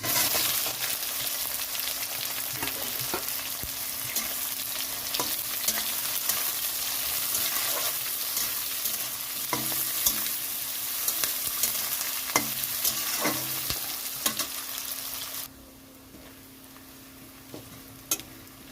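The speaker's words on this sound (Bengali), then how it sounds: "রসুনটা একটু ভাজা হয়ে গেছে তো এখানে আমি দিয়ে দিচ্ছি কুচানো পেঁয়াজ" Chopped onion added to garlic frying in oil for mutton kosha, a steady close sizzle with scattered stirring clicks and scrapes that continues for a long stretch before dropping quieter.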